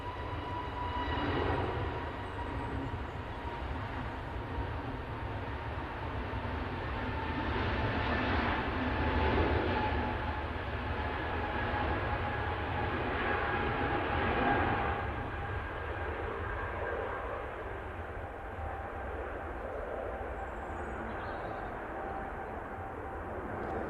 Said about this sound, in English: Here goes the KLM back to Schiphol.